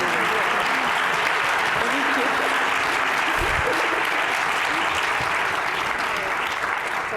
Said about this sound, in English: can everyone please give a round of applause for